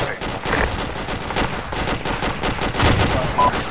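Video game gunfire crackles in rapid overlapping bursts, loud and close and nearly continuous, with a player's voice faintly mixed in.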